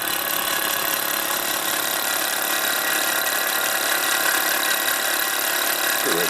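A Bowman M158 model engine, stripped down and run on air at full throttle around 1500 RPM, gives a loud steady high buzzing whine that holds unbroken throughout, with no talking.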